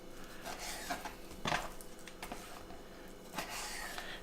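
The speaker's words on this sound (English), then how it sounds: "we're going to cut it into about 5-inch pieces" A knife cuts skirt steak into roughly five-inch pieces for tacos, giving quiet intermittent slicing and scraping strokes against a board, with one sharper knock partway through.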